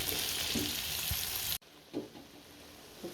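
Pickle ingredients fry in a pan with a steady, fairly quiet sizzle, broken by a sharp dip midway before the frying noise resumes with soft stirring bumps.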